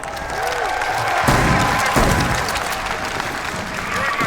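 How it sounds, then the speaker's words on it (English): Crowd applauding at a FaZe Clan vs. LOS Counter-Strike semifinal at the Atlanta Major, a large arena audience clapping and cheering steadily throughout, with a loud burst partway through and a caster talking over it. "Give yourself a round of applause."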